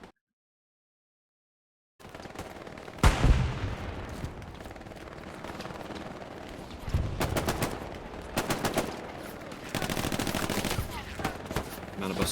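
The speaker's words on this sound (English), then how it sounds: "we hear the ring of the laser gun, the MG42" MG42 machine gun fire in the Hell Let Loose video game: long rattling automatic bursts and heavy booms after a short silence, loud and sustained, with a voice faintly underneath.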